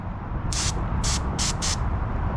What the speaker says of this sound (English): So all I'm doing is spraying this like this.